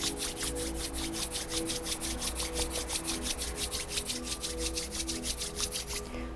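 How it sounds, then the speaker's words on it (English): Palms rub together briskly in a steady back-and-forth rhythm during a guided yoga session, a close, fairly loud swishing repeated about thirty times over a low background hum. "rub your palms together"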